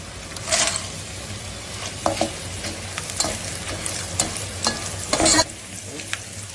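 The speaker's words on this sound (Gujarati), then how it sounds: "ત્યાર પછી પાછું ઘી નાખવાનું બદામ શેકવા માટે. બદામ ફૂલી જાય પછી કાજુ નાખી દેવાના." Almonds and cashews roast in hot ghee while being stirred, a steady close sizzle broken by sharp scraping strokes of a spoon against the pan.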